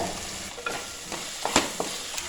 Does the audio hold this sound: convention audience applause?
no